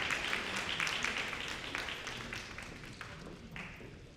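Audience clapping for panelists at a National Black Business Month mixer, a dense round of applause that starts strong and gradually thins out, with a few louder individual claps near the end.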